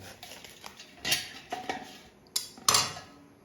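A knife peels the skin off cassava with light scraping strokes and a few sharp metallic clicks and taps on a hard surface, close and fairly quiet.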